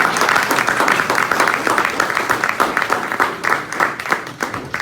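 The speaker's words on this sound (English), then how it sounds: "Let's give Miss Gatewood one more round of applause, please" Sustained audience applause fills a hall during a sports officials' hall of fame induction ceremony, steady dense clapping with rhythmic surges throughout, close and loud with no talk over it.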